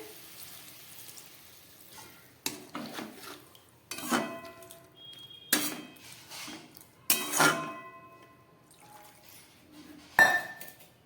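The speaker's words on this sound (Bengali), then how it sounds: "এবার আমি একটু জল দিয়ে দেবো, জল দিয়ে এটাকে সিদ্ধ করব" Water poured in several separate bursts into a pan of leafy greens, with clinks of a vessel against the pan between pours, near and fairly quiet.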